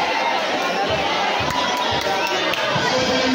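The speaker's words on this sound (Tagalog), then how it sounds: "Palakpakan ng mga fans." Basketball fans at a championship game roar and cheer in a packed arena, a steady dense crowd noise with shouts and scattered sharp claps throughout.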